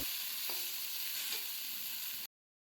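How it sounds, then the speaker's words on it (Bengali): Steady crackling sizzle of eggplant frying in hot mustard oil, close and constant, with a couple of faint clinks, then it cuts off abruptly. "বেগুনগুলো সর্ষে দিয়ে শুকনো লঙ্কা ফোড়ন দিয়ে চাপিয়ে দিয়েছি"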